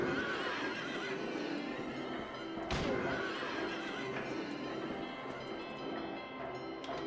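Carousel horses in the video game Silent Hill 3 whinny loudly and repeatedly over a dense, droning ride din, with a sharp thud partway through.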